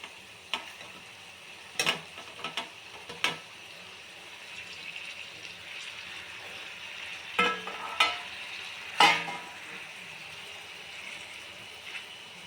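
Tomatoes frying in a pan, a quiet continuous sizzle broken by several sharp stirring scrapes and clacks of the spoon against the pan.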